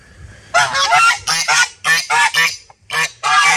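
Domestic geese honk loudly and close by in a barnyard, a quick run of harsh, nasal calls in short bursts with brief gaps.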